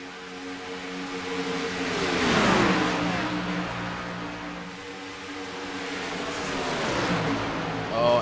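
Stock race cars in an iRacing NASCAR Cup Series race at Kansas Speedway drone and rev steadily, engine pitch swelling as cars pass, with a continuous wash of engine noise throughout.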